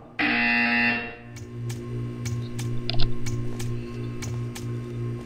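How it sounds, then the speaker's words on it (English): A loud electronic buzzer blares for about a second in the video game Portal 2, followed by a low mechanical hum and scattered soft ticks. "You will hear a buzzer."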